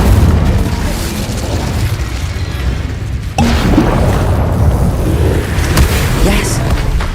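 Incendio fire spell cast in Hogwarts Legacy on PS5: a sudden whooshing burst lands midway and is followed by steady crackling roar, over a continuous rumbling game bed.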